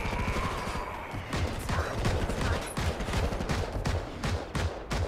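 Rapid automatic gunfire in Modern Combat Versus rattles in dense, continuous bursts, loud and close, with sharp individual reports throughout.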